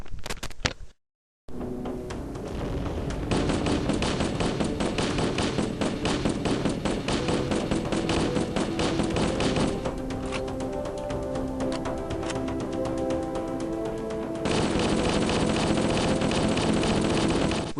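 Assault rifle fire from Halo: Combat Evolved rattles in steady rapid bursts, loud and close, running almost continuously with a short pause near the start, alongside a game music bed.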